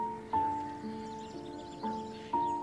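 A horse is heard near a home, with soft hoof clops and shuffling under a steady tonal hum, several brief knocks spaced about half a second apart.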